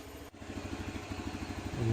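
Honda Beat scooter engine running smoothly after an injector repair, a steady mid-pitched idle with rhythmic pulsing that rises slightly toward the end, heard close with no talk.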